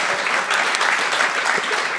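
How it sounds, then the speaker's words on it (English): Audience gives a round of applause for two speakers at the close of a talk, a dense, steady wash of many hands clapping at moderate loudness throughout. "Big round of applause for Will and Amy."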